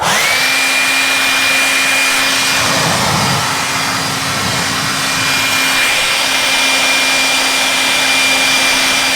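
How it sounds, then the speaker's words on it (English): A leaf blower blasts air into cabin air filter cartridges from a 100 Series Land Cruiser or Lexus 470, a loud continuous whooshing roar with a steady whine, near and unbroken for the whole stretch. "what I'm going to do is use my leaf blower and blow into it to get any other loose particles in there or dust."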